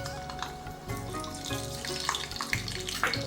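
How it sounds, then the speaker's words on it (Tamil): Mustard seeds crackling in hot oil for a poha upma: scattered close pops and a frying hiss over steady background music. "காஞ்ச பிறகு கடுகு போட்டுக்கோங்க"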